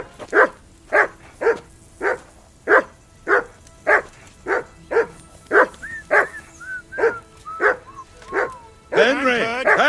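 A dog barks in Kingdom Come Deliverance II, a medieval video game, with about a dozen sharp, evenly spaced barks. These give way to short whimpering yips, then a dense burst of barking at the end.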